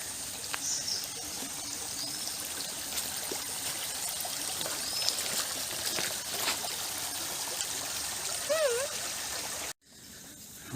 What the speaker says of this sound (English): And alongside there is a stream.